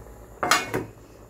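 A metal lid set down on a pot of chicken curry, giving two quick close clanks in quick succession, loud and alone against faint kitchen background.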